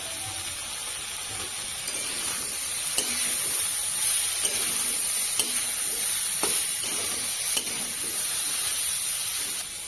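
Steady sizzling of water spinach frying with potato and onion in a pan, with scattered clicks and scrapes of stirring throughout.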